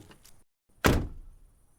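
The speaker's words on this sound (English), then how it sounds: "I heard their car door open and close" A faint click of a car door opening, a short pause, then a solid thunk as the door shuts nearby.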